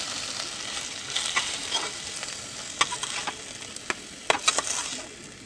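Fish pieces frying in oil in a pan for a masala fish curry, a steady bright sizzle with scattered sharp crackles and pops, close and alone with no voices.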